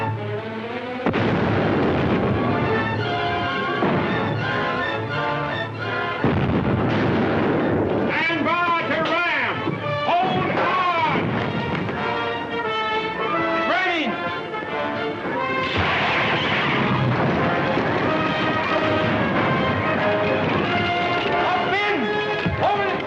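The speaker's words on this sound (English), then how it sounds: "We'll give them a broadside." A Civil War warship fires a cannon broadside in an old film: repeated heavy booms and crashes over dense, continuous battle noise with music and shouting voices mixed throughout.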